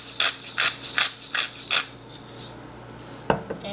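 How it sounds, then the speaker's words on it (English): Sugar, salt and pepper being stirred together in a bowl, a utensil scraping and clinking against the sides in about six quick rhythmic strokes, then a brief pause and a couple of sharper taps near the end. "And we're going to mix this together really well."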